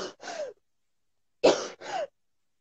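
A young woman coughs and clears her throat in two pairs of harsh, close bursts separated by a short silence, each pair a quick double hack with a rough, strained quality and no talk over them.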